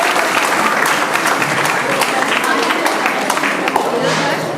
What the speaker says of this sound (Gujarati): એ બાબતે તાળીઓ પાડો.